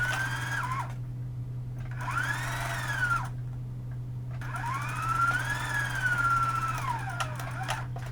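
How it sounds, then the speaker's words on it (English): A sewing machine runs a wrap dress side seam in steady bursts, whirring in three stretches separated by short pauses, close and clear over a constant low hum, with no talking. "So now I'm going to sew this side seam at a 1/2 inch seam allowance"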